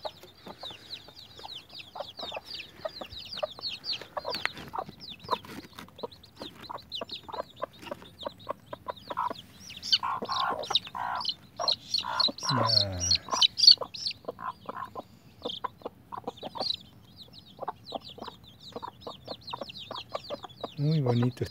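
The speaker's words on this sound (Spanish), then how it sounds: "Muy bonito este pollito." Soft, rapid peeping and chirping from small fowl, with occasional clucks and scattered rustling nearby, fairly quiet throughout.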